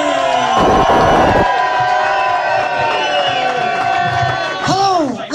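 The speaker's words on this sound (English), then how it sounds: "Please give a massive round of applause for Mr. Danny Carlin." A comedy club audience cheers and whoops loudly for a comedian being introduced on stage, a dense crowd roar with shouts throughout and voices carrying over the noise.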